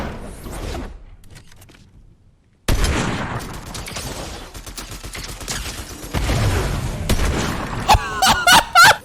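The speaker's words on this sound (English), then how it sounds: "I switch over to my sniper rifle and hit him with a huge quick scope" Sniper rifle fire in Fortnite, heard as a sudden loud crack followed by dense gunfire and explosive bursts, ending with several sharp, closely spaced shots near the close.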